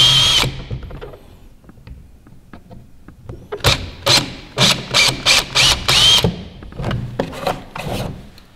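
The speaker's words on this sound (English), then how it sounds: "we're gonna use a drill in order to drill some pilot holes" A power drill drilling pilot holes whirs in a series of short, loud bursts, a few isolated ones then a rapid run of repeated pulses close by.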